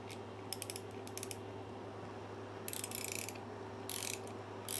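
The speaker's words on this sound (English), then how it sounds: "I have a 14mm wrench, 2 of them. I got one on one side and one on the other side." Wrench work on a bolt held by two 14mm wrenches on a Mihogo Mini ebike, a few short faint ratcheting clicks over a steady hum.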